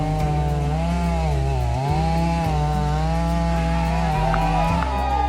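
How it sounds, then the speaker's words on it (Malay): A chainsaw cutting trees in a forest during survey site clearing, its engine droning loud and close with steady pitch that dips and recovers as the chain bites into wood. "penggunaan mesin gergaji berantai digunakan untuk pemotongan pokok"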